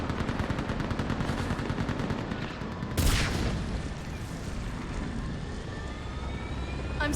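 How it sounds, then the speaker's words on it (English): A gunship in the Mass Effect 3 video game roars overhead with dense, continuous gunfire and engine drone, loud and steady, with a sharper burst about halfway through. "Get that gunship moving!"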